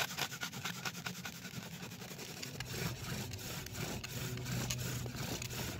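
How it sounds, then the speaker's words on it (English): A wooden spindle spins in a friction fire set, making a steady, close grinding, rasping rub of wood on wood in quick back-and-forth strokes, moderately loud and with no voices. "So I'm just going to spin this until it gets smoking a little bit."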